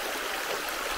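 Steady rushing stream water flows close by during a river crossing near Nerja on a road trip, a dense continuous wash with no voices.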